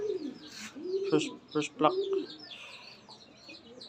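Racing pigeons coo at the loft, soft rolling coos and throaty burbles close by, with someone speaking briefly over them.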